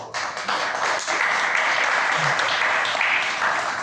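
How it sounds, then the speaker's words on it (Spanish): Steady applause from an audience at an evangelical forum in Guatemala, dense clapping holding even and fairly loud from the start to the end with no pause. "a quien pido un aplauso"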